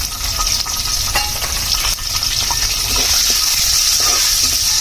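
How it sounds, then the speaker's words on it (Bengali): Bay leaves, cloves, cardamom and cinnamon frying in hot oil for a layer chicken curry, a loud, dense, close sizzle with faint stirring knocks underneath. "গরম মশলাগুলো সুন্দর করে একটু তেলে ভেজে নিব"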